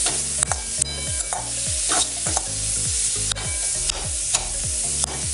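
Stirring white sauce pasta in a pan: repeated close scraping strokes of a spoon in a steady rhythm over a soft sizzle, with sharp clinks against the pan and no voices.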